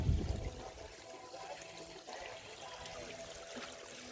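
Water splashes and trickles steadily down a newly built waterfall into a koi pond, with a louder splash at the start and then a continuous gentle pour, close by and alone.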